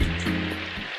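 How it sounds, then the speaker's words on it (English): Light rain in a video game town, a steady soft patter and hiss of drops on surfaces running evenly throughout with no voices, fairly close and continuous. "It's only raining lightly, so you should be okay."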